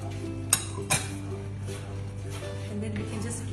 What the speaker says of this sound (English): And then we can just keep stirring it